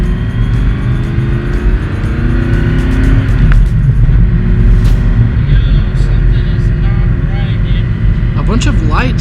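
A loud engine-swapped Nissan Z runs close by, its deep rumble rising with revs and surging, with a voice talking over parts of it.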